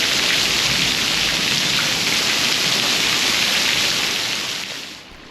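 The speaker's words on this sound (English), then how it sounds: "I'm stuck here because it's raining so hard." Heavy rain pours at a nunnery in Hong Kong, a dense, steady hiss of drops drumming on surfaces. It stays loud and close throughout and eases slightly near the end, with no voices.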